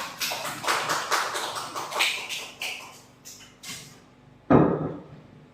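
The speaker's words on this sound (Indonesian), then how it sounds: "tepuk tangan untuk Bu Sela" A small group gives a round of applause for a teacher during a school session: several seconds of scattered, rhythmic clapping that tapers off, then one loud thump near the end.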